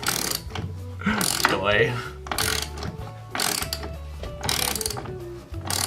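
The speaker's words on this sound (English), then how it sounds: "I forgot my driver bit, so I get to crank every one of these by hand" Screws being hand-cranked into wood with a hand driver for lack of a driver bit, giving repeated ratcheting clicks in bursts with pauses, plus a brief spoken word.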